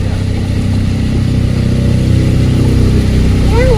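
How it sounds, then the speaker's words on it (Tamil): A boat engine drones loud and close as another boat overtakes, a steady mid-pitched motor rumble that builds slightly, with faint voices underneath. "நம்மள ஒரு போட்டு ஓவர்டேக் பண்ணது வருது."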